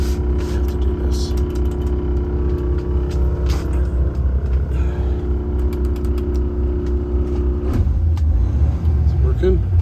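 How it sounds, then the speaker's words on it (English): A 2018 Kenworth T800 heavy-spec truck with a Paccar MX13 diesel is held at fast idle, giving a steady, loud low drone with strong harmonics that shifts and roughens near the end as the engine note changes. "So let's put it up on fast idle and let's have a listen to it."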